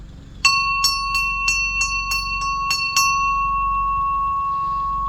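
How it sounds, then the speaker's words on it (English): A small hand bell rung to call cats strikes about eight times in an uneven rhythm, each clear metallic ding ringing on, with the last tone sustaining and fading over a low background hum. "Here's my bell. Every time I honk"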